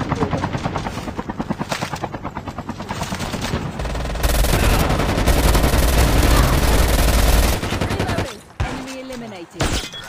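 Loud, rapid automatic gunfire fills a video game, with bursts running together into a sustained clatter over a low rumble before it cuts off and voices briefly come through.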